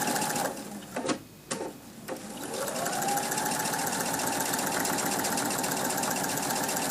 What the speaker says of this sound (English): So we're stitching up to this next curve.